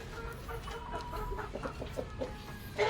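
A hen clucks nearby in a farmyard, giving a short run of soft, repeated clucks over a low background hum, with no voices.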